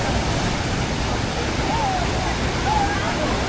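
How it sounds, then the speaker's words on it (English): Tegenungan Waterfall in Bali pours in a steady, loud broadband rush of falling water, with smaller falls nearby, faint voices briefly rising over the constant roar. "There's small waterfalls. One, there's another one here, there's another one there. But the bigger one is right in front of us."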